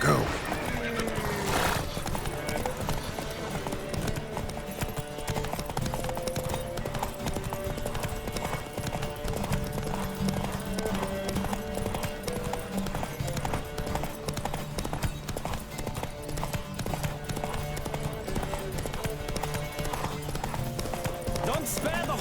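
Galloping horses in The Witcher 3: Wild Hunt, with rapid clip-clopping hooves, loud whinnies and neighs, and riders shouting over the running herd.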